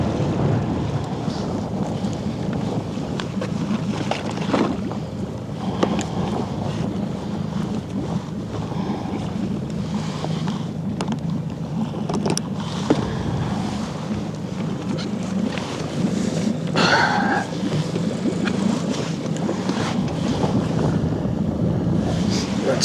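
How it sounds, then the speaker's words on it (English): A fishing boat's engine drones steadily at sea beneath gusting wind and lapping water, a low continuous rumble that persists throughout. "I'm going to leave the engine running."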